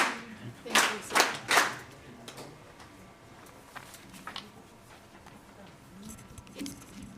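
Audience at a Kenya–Indonesia business forum gives three sharp, loud unison claps in a counted rhythm, then quieter room sounds with a few faint taps and some talk.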